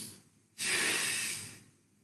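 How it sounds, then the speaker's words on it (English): Sharp nasal sniffs followed by a long, breathy exhale through the mouth during a voice warm-up exercise, a sudden loud airy rush that holds for about a second and then fades, with no talking. "breathe up through that other nostril a few times, several short, sharp sniffs"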